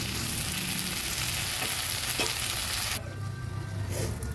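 Green chillies sizzle and fry steadily in hot oil in a pan while a banana flower curry is cooked, a dense continuous crackle with a couple of faint stirring knocks, then a quieter simmer near the end. No one speaks.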